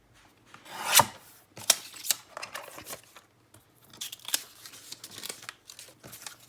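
Paper is cut and handled while making an ephemera folder. Close, irregular snips and crinkles come in short bursts with quiet gaps between them, and one sharper rustle stands out near the start.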